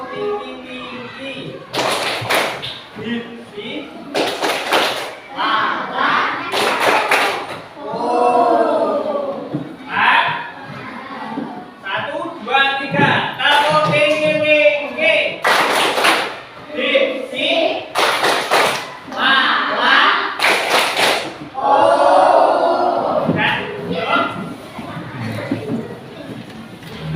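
Children in an Indonesian fourth-grade classroom clap their hands in a group clap game: sharp, loud bursts of clapping recur every few seconds, with a teacher's voice and children's chatter running between and under them.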